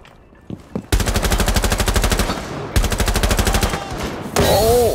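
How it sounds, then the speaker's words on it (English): Rapid automatic gunfire in Rainbow Six Siege, loud and close, with two long rattling bursts and a brief pause between them, followed by a whooshing electronic effect at the end. "Another one's shooting me."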